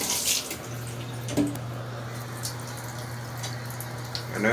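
Small twin-tub portable washing machine rinsing clothes gives a steady hum under a constant wash of sloshing water, with occasional splashes and drips, close and moderately loud.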